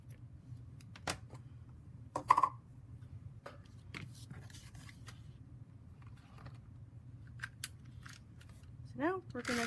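Scissors trim the end of a pliable ribbon tied in a knot for a craft gift, giving a few faint, sparse snips and clicks against a quiet room background.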